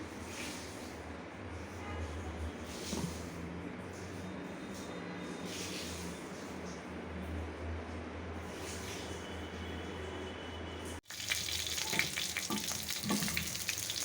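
Fish frying in a pan of oil for a Bengali New Year meal, giving a steady close sizzle throughout that turns sharper and louder near the end.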